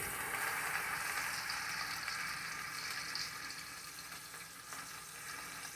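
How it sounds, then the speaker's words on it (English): A pot roast sears in an Instant Pot, giving a steady, fairly quiet hiss of fat sizzling that runs without a break and eases a little toward the end. "I just put that on each side just to sear that roast."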